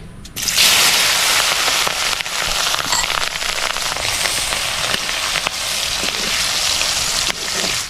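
Chopped capsicum dropped into hot oil, a loud, close, dense crackling sizzle that bursts up right away and holds steady throughout, for a village-style fried rice.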